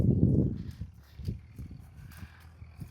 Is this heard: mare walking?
yes